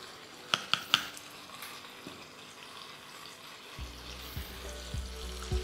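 Potatoes frying with turmeric and salt in a pan: a soft, steady sizzle with a few sharp clinks early on and some low knocks later, close but quiet, with no talking.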